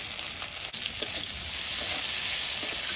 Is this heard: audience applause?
no